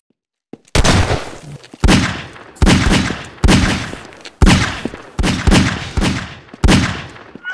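Gunfire in Half-Life 2 Deathmatch on the aim_arena map: eight loud, close single shots spaced under a second apart, each a sharp crack with a short decaying tail, heard alone.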